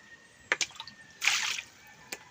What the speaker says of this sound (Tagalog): Hapon na magkabot ng tubig kay para na kay ihugas.